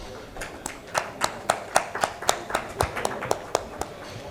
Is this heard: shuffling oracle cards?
no